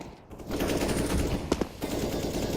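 Rapid AK rifle fire in a Counter-Strike esports match, shown as a dense, continuous burst of gunfire with a few sharper cracks standing out near the middle, loud and steady throughout.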